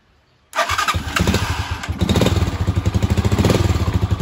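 Pressing the starter button cranks a motorcycle's engine, which catches right away and settles into a loud, close, fast-throbbing idle that stays steady to the end.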